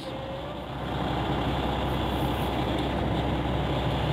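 A tractor-trailer truck's engine revs up while the driver shifts gears: a deep diesel rumble that swells after about a second and holds at a loud, steady, rising drone nearby.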